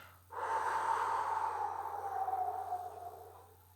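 A voice imitates wind swaying trees with a long, breathy exhalation, a soft steady whoosh that swells and slowly fades over a few seconds, quiet and close.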